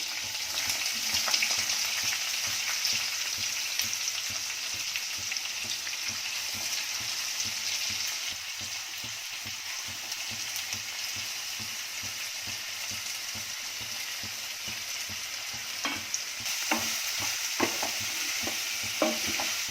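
Onion, chillies, mustard seeds and cumin fry in hot oil in a pan for an Indian home cooking dish, a steady dense sizzle and crackle with occasional stirring scrapes and pops near the end, no voices.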